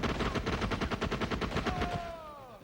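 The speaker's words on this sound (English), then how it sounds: "both games have really good weapon sounds" Rapid automatic gunfire from a video game, a fast regular burst of sharp shots that stops abruptly, followed by a ringing, descending metallic tone.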